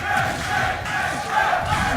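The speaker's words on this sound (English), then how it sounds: "Crowd popping off a little" Tournament crowd at a Smash 4 Wii U match cheers and roars loudly and steadily for two seconds, a dense wash of voices with no single speaker standing out.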